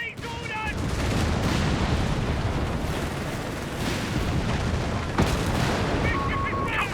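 A Bishop artillery carrier fires in a Company of Heroes 3 match amid a thick, continuous roar of artillery and gunfire, with a sharp blast standing out near the end and brief game voices at the edges.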